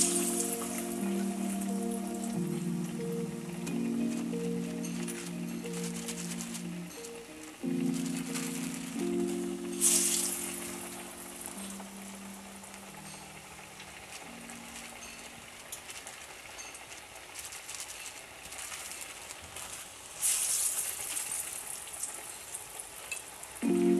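Lentil fritters (babbara pappu vadalu) dropped into hot oil and frying, a dense crackling sizzle like rain that runs throughout, with louder bursts of spatter as more batter goes in and a humming tone underneath.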